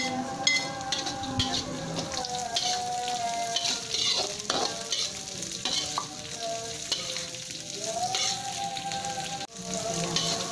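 Green chilies and bird's eye chilies stir-frying in a pan with oil, a constant crackling sizzle broken by scraping and clattering spatula strokes.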